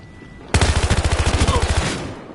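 Rapid automatic gunfire from a Battlefield Hardline shootout, a steady burst of about fifteen close, loud shots in quick rhythm lasting over a second before cutting off.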